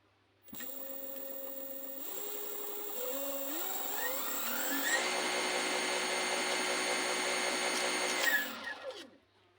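Homemade brushless DC motor built from a car alternator spinning up, a whining electric tone climbing in pitch in steps, holding a high steady whir, then winding down to a stop.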